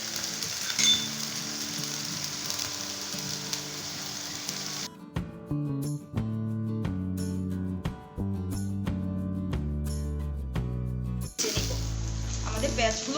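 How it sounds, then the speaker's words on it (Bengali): Onions frying with meat in a pan give a steady, close sizzle that runs throughout, with background music playing over it. "মাংসগুলো হালকা ভাজা হয়ে গেলে আমরা এখানে পেঁয়াজ ঢেলে দেব।"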